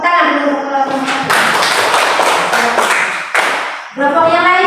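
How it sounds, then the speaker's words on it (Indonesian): A classroom of students claps together for a presenting group in an Indonesian school lesson, a loud, dense burst of applause lasting a few seconds between brief stretches of voices. "Tepuk tangan dulu untuk kelompok 1."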